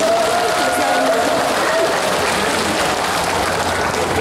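Outdoor crowd applause at a lotus festival opening celebration performance in Muan, a steady, dense wash of clapping that holds at an even level throughout, with a voice faintly present beneath it.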